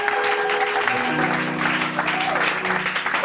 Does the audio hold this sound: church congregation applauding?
yes